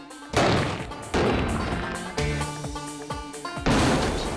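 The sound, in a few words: explosion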